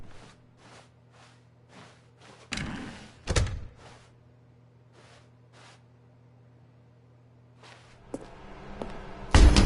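In the video game The Stanley Parable, a door opens with a couple of dull thunks amid quiet, evenly spaced footsteps over a low hum, and the sound grows louder near the end.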